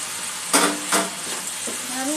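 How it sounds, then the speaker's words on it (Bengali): Okra being stir-fried with spices in a pan, a soft sizzle with two brief scraping stirs close by, and a short vocal sound near the end. "ঢ্যাঁড়স সমস্ত মশলার সঙ্গে একটু ভালো করে কষিয়ে নেব।"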